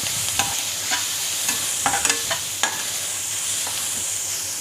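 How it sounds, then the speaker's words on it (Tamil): Onion and tomato sauté in a pan, with a steady close sizzle of frying under a string of sharp clicks and scrapes as a spoon stirs against the pan. Nobody speaks. "இப்போ வெங்காயம் லைட்டாக வதங்கினோடனே தக்காளி போட்டுக்கோங்க."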